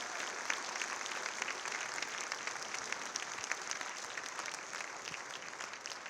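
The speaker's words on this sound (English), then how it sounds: "So another round of applause, please." Steady, dense applause from an audience at a school orchestra concert with 6th, 7th and 8th grade players, sustained evenly at moderate loudness throughout with no talk over it.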